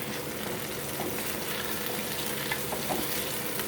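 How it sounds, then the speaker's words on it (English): Small onions frying in a pan as the start of a scallion demi-glace sauce, an even, dense sizzle close by that holds steady throughout without speech. "So I am cooking the little onions"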